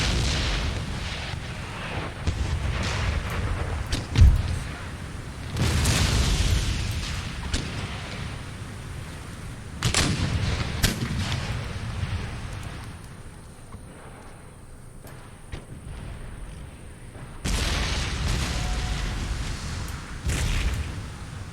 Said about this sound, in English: that fire from that cannon on the wall will cease